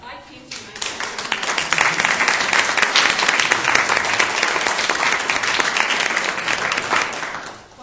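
Sustained audience applause at an annual community meeting, a dense wash of many hands clapping steadily for about seven seconds, swelling quickly and fading near the end, with faint voices beneath.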